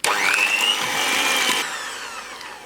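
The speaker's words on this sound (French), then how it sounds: "il ne reste plus qu'à fouetter donc l'ensemble jusqu'à épaississement complet" An electric whisk whips mascarpone cream for a chocolate caramel tart. Its loud, close motor whine rises in pitch, holds, then drops to a softer hum partway through.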